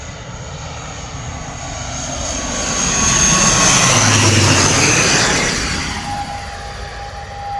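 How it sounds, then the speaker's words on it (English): An Aer Lingus ATR 72-600 turboprop arriving from Dublin passes overhead at an airport, its engine drone and propeller whine swelling to a loud peak midway, then easing off as it moves away. "Aer Lingus ATR 72600 coming in from Dublin"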